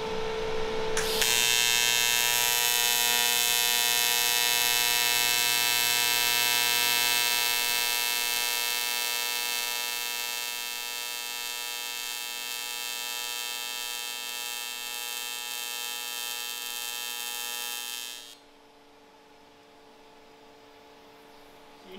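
Miller Dynasty 210 TIG welder running an AC arc at 120 Hz, a steady loud buzzing hum that holds for about seventeen seconds, softens partway, then cuts off abruptly.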